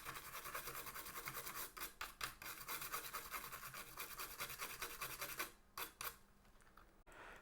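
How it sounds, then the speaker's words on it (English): Brisk bristle brushing scrubs flux off a Nintendo Game Boy circuit board during a backlight mod, a steady close scratchy rasp with quick strokes and a few short pauses near the end. "We're going to give it a quick brush. Remove some of that flux."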